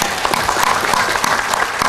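Crowd at a Javanese religious gathering with Cak Nun and Kiai Kanjeng applauds in a loud, dense burst of clapping that fills the whole moment.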